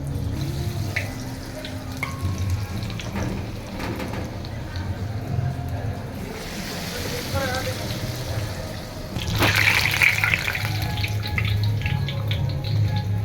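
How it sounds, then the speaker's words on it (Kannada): Chilli bhaji coated in besan batter sizzling in hot oil, a steady hiss and bubbling that swells louder partway through, with a person talking over it. "ಇದನ್ನು ಇದರಲ್ಲಿ ಡಿಪ್ ಮಾಡಿ ಆಯಿಲ್ ಕೂಡ ಕಾದಿದೆ, ಇದ್ರೊಳಗಡೆ ಹಾಕೊಳ್ಳೋಣ"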